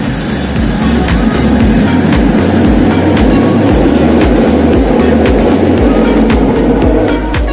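A train passing nearby in Kuala Lumpur produces a loud, continuous rumble with rhythmic low thumps from the wheels and a broad roar that holds steady throughout.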